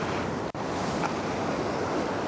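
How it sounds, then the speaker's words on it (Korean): Large ocean waves crash and wash onto the shore at Watsons Bay, a loud, continuous roar of surf with wind buffeting the microphone and a brief dropout. "저 파도 큰 거 온다"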